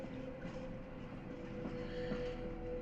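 Train carriage rumbling and rattling along the tracks in the video game The Derailed, a continuous low clatter with faint clicking jolts at moderate, steady loudness and no speech.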